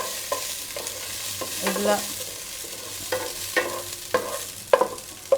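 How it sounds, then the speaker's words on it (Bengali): Food frying in ghee in a very hot pot, sizzling steadily while a spoon stirs and scrapes with repeated sharp clinks and bursts, close up, with a brief spoken word. "আর পাতিলটা খুব গরম হয়ে গেছে, আর ঘি দিয়ে আগে থেকে ভেজে নিচ্ছি"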